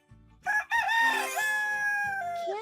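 A rooster crows once, loud and close, a long rising then sustained cock-a-doodle-doo call with clear harmonics and a short clucking lead-in.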